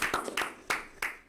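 Four sparse, sharp hand claps at a steady rhythm, fairly quiet and close, welcoming pastor Leandro Cândido as a guest on a podcast recording, with no voices over them.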